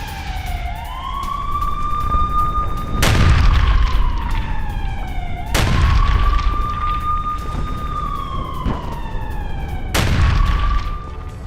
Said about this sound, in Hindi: इजरायली एयरफोर्स ने बरसाए हैं बम।